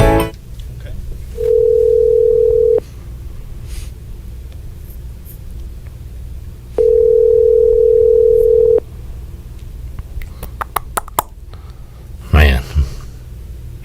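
A telephone rings on a live radio call-in show, two long ring tones spaced several seconds apart over a low studio hum. Faint clicks follow, then a brief knock near the end.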